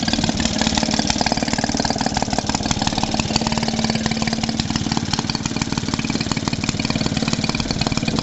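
A Maytag Model 72D washing machine engine, a small two-stroke, runs steadily at idle with a rapid, even putter and a bright exhaust rasp, loud and close and continuous with no talk.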